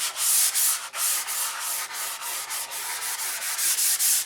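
Open-handed sanding of the painted finish on a control line P51 B model plane, a steady run of raspy back-and-forth rubbing strokes, close and fairly loud, with no talk.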